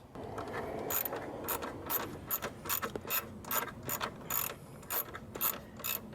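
A ratcheting tool tightening the radiator screws on a 1997–2004 Ford F-150 gives a steady run of sharp metallic clicks in short rhythmic strokes, close and clear with no talking.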